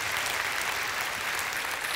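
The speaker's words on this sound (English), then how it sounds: "Now that's worthy of an applause." Audience at a political campaign event applauds a speaker's point, a steady even wash of clapping that holds for the whole stretch at moderate loudness.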